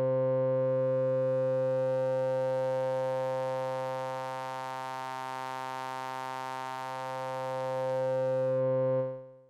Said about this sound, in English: here is just a simple saw wave getting morphed between the two filters